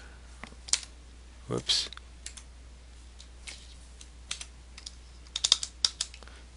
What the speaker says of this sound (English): let's type H2 squiggly bracket